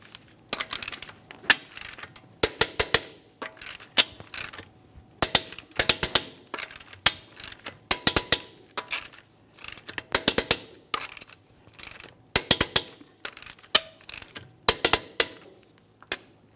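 A torque wrench ratchets wheel lug nuts tight on a GMC Acadia to 140 foot-pounds, with repeated bursts of sharp metallic clicks, each followed by a short pause, close and clear with no talk.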